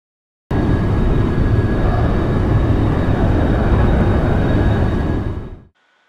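An F-4 Phantom II jet taking off in the X-Plane 12 flight simulator, a loud broad engine roar that starts abruptly, holds steady for about five seconds, then cuts off.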